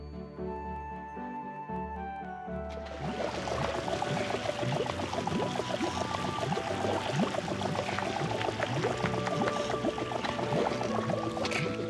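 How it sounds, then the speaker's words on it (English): A water pump drains water in the puzzle game Gardenscapes, a steady gushing pour that starts after a short musical lead-in and runs on under a bright, plinking game melody. "The pump is working beautifully."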